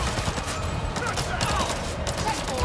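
Enemies in Avatar: Frontiers of Pandora fire rapid, sustained bursts of gunfire that rattle steadily throughout, fairly loud, mixed with game effects and a player's voice.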